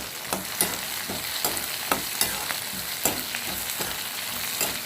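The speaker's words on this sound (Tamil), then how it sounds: "அதே இதோட ஒன்றா சேர்த்து வதக்கி விட்டுறோம். இந்த மாதிரி நல்லா வதங்கணும்." Chopped green chillies and carrot sauté in a pan for carrot chutney, giving a steady sizzle broken by regular sharp scrapes and taps of the spoon stirring, close and moderately loud with no talking.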